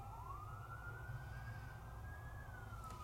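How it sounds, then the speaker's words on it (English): A fire truck siren wails steadily in the distance, a single rising-and-holding tone sustained for the whole moment over low rumbling background noise. "I can hear the fire trucks already"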